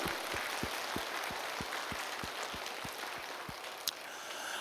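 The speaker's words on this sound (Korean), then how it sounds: "우리 하나님께 한번 박수하겠습니다." A church congregation claps together in a steady, evenly spaced rhythm during a Korean New Year's Day dawn worship service. The claps sound faint and distant over a soft background hiss, with no talking.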